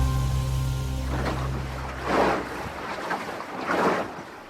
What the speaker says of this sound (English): It's October of 1665, and we're sailing aboard a ship